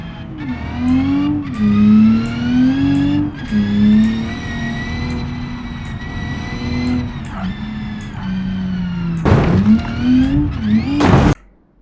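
Car engine in BeamNG.drive driven from first-person view, a steady loud mid-pitched drone that rises and falls with throttle and gear changes, with two sharp revving surges near the end.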